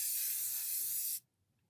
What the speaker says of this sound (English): we're just gonna like spray it all over the top